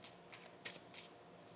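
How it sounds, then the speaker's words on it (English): Tarot cards being shuffled by hand, a few quick soft riffling bursts of card edges, faint and close, with no talking. "One more shuffle."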